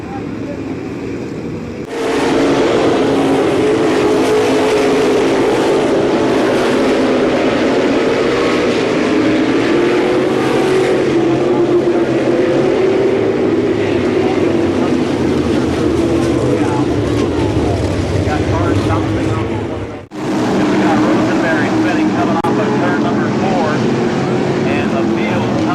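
Race cars roaring around the track at Columbus Motor Speedway during a main event, a steady, loud blend of engine noise with a brief dip near the end, under continuous commentary.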